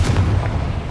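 A Confringo fire spell explodes in the video game Hogwarts Legacy, giving one deep, booming blast with a rumbling low-end tail that fills the whole second.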